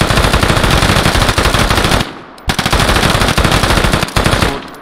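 Loud, rapid bursts of automatic gunfire in the game Deadside, sustained with a brief pause, then a second long volley.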